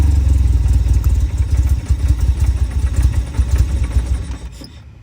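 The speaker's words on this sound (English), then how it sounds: "I'm really hoping I didn't mess this engine up" The engine of a restored barn-find Lotus Esprit S1 runs roughly, giving a loud, close, uneven rumble with lumpy pulses that fades and cuts off at the very end.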